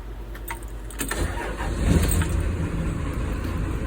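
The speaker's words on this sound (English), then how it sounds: "So here we go to start up the truck." A wood-fired pizza food truck's engine cranks briefly and then catches, settling into a steady, loud idle that rumbles close by with no talking.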